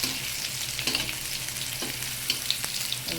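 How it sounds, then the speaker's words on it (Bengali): Bitter gourd (karela) frying in a pan, a steady close sizzle with a few soft stirring scrapes and clinks scattered through, no voices. "এভাবে করে করলা ভাজলে সেটি খুবই সুস্বাদু হয়"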